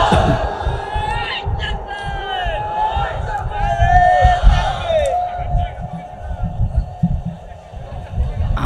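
A crowd chants back in unison to a Naraye Takbir call at a Bangladeshi Islamic religious gathering, many voices shouting in loud repeated bursts with a lead voice rising above the mass.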